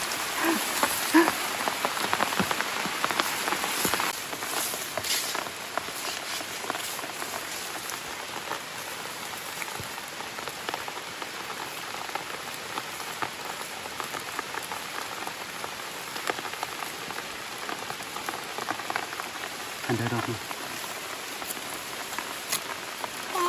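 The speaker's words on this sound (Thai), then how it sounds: "นี่เสียอย่างเดียว ฝนตก ฝนตก" Steady rain patters on a surface, a dense continuous hiss with scattered drips, fairly quiet and unbroken throughout.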